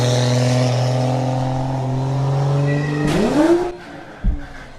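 A car engine drones at steady revs, then a sudden clattering burst as the drive shaft joint breaks, the engine free-revving up sharply, followed by a dull thud as it dies back down.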